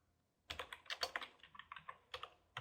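Quick bursts of keystrokes on a computer keyboard while writing JavaScript/jQuery code, close and fairly quiet, in irregular runs of clicks after a brief silence.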